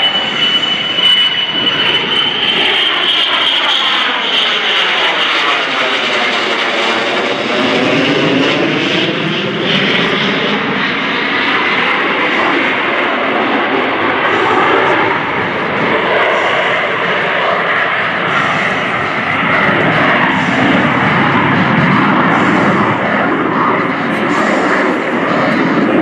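An F-35B Lightning II jet with a Pratt & Whitney F135 engine roars loudly at an air show at MCAS Cherry Point, a sweeping Doppler rumble that dips in pitch as it passes, with a commentator speaking over it.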